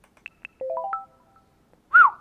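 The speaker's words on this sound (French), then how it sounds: "Quand un nouveau message d'une notification." A Windows 11 new message notification chime plays alone, a short series of soft pluck and bell-like tones stepping through a brief melody, then ending with a clear rising and falling swoop.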